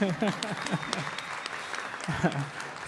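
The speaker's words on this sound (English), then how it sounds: "Oh, let's clap for her again" Audience applause at an international youth biodiversity conference, a steady wash of clapping from the crowd with voices speaking over it.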